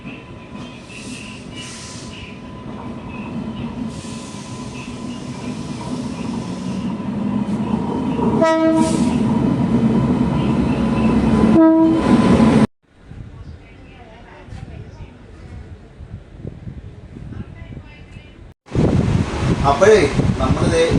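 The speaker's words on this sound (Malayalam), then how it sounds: "അപ്പോൾ നമ്മുടെ ട്രെയിനിൽ സെറ്റ് ചെയ്യാനുള്ള ലോക്കോ വരുന്നുണ്ട്." A locomotive arrives at a railway station to couple onto a train, its heavy rumble building over the wheels, with short horn blasts midway and voices talking around it.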